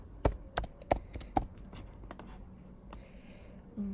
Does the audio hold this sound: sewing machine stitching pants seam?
no